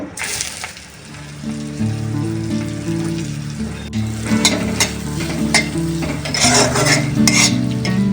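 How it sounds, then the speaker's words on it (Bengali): Carrots and other vegetables fry in a pan with cloves, peppercorns and cracked cardamom for dalia pulao, a continuous close sizzle broken by repeated metallic scrapes and clinks of the spoon against the pan, with no speech. "একে একে সবজিগুলো একটুখানি ভেজে নেব। প্রথমে গাজরটা দিয়ে নেব।"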